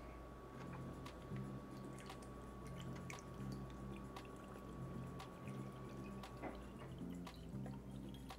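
Distilled water trickles and drips while being poured into a CPU water cooling loop for a Threadripper water block leak test, a soft steady liquid patter over a low machine hum with no talking.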